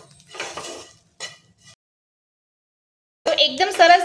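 A spoon clinks and scrapes in a bowl while chaat-style masala is mixed for a Gujarati onion snack, in two short close bursts separated by silence. A voice follows near the end.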